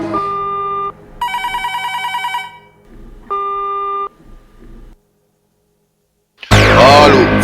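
A telephone being dialed to call someone: steady dial tone, a rapid run of keypad beeps, then the tone again before cutting off, followed by a sudden burst of loud, muffled noise at the end.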